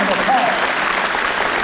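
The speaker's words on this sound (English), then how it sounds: "You ought to give" A round of applause from a convocation audience, dense, steady clapping filling the hall, brief and fairly loud, with a voice faintly audible underneath.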